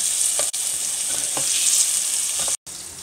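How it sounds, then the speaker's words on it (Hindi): Garlic ginger paste fries in a pan with a steady, close hiss and sizzle, broken by a couple of short gaps and faint stirring scrapes. "लहसुन अदरक के साथ इसको थोड़ा सा फ्राई करेंगे।"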